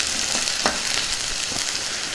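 Onions, green chilies and curry leaves crackle loudly in hot oil while a spoon stirs them through the pan, with a dense continuous sizzle and a few soft scraping strokes close by.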